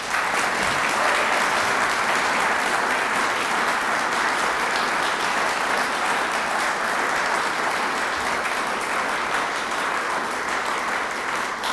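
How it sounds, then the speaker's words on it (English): An audience at a university gift announcement claps for the Watterson family in a long, steady ovation, dense and even throughout with no speech over it. "And one more big round of applause for the Watterson family."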